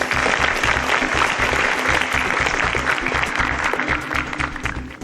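A game show studio audience gives contestants a loud, steady round of applause, with a rhythmic music bed pulsing beneath the clapping.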